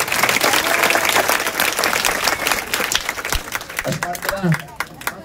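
An audience claps loudly and steadily at a public meeting held by a police commissioner in a residential colony. The applause is dense and close, with some crowd voices heard as it begins to fade.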